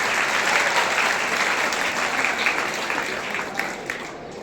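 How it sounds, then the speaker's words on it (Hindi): A seated audience at a school event gives steady, dense applause that holds evenly for several seconds before thinning slightly at the end. "आप अपने लिए एक बार ताली बजाइए।"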